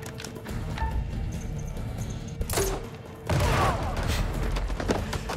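Explosions and gunfire in the horror action video game House of Ashes, a booming burst hitting midway followed by a louder sustained roar of blasts and debris that carries to the end.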